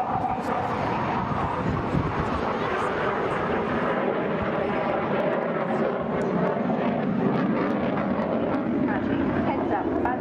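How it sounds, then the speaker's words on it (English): Chinook helicopter at an air show, sitting on the ground with a steady, loud rotor and engine roar that fills the whole stretch, broad and continuous, with a commentator talking over it on the public address. "The Chinook helicopter is very vulnerable whilst it's on the ground."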